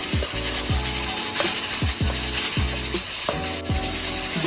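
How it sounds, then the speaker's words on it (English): A kitchen stove being switched on to low heat, heard as a close series of loud ratcheting clicks from a turning knob or igniter, repeating in bursts with no talk. "turn on the stove on a low heat"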